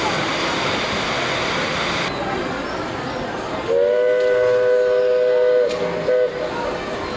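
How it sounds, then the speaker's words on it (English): A roller coaster train on Big Thunder Mountain Railroad at Disney World rumbles along steadily while a two-tone whistle sounds for a couple of seconds, then cuts off abruptly as the rolling noise continues. "Another ride we took at Disney World was the Big Thunder Mountain Railroad."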